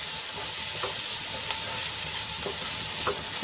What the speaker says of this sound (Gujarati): ડુંગળીને આપણે ગુલાબી રંગની થાય ત્યાં સુધી સાંતળી લેવાની છે